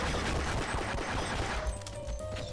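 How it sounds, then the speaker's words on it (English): Gunfire in the Half-Life video game, a rapid burst of loud sharp shots close up that fades into quieter noise. "The pistol works though."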